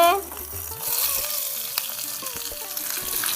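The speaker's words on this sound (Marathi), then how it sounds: "आता मम्मीने तेल टाकलेलं आहे आता मम्मी सगळं भाजून घेणार" Green chillies fry in oil on a small village clay stove, crackling and sizzling steadily up close, with a few stirring scrapes mixed in.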